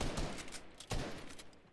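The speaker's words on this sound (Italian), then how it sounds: "Ma chi è che sta sparando, raga?" Gunfire in a first-person shooter video game, a quick burst of several sharp shots with a louder crack near the end, fairly loud and close, with no talk over it.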